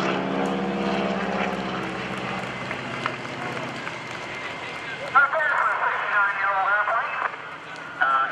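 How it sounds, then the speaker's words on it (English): A 1943 North American Texan propeller airplane drones overhead at an airshow, its engine tone shifting as it rolls inverted and back upright, with people talking over the sound. "Bill Leff rolls the North American Texan upside down, holds it there, rolls it upright"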